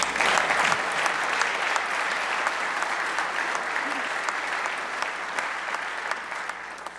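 Sustained loud applause from a large audience at the Indiana governor's State of the State Address, a dense steady wash of clapping lasting several seconds and thinning slightly toward the end.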